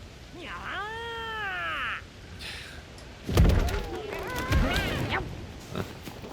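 A cat meows twice in the video game Monster Hunter Wilds, with drawn-out, wavering cries separated by a short pause and a thump, sounding close and fairly loud.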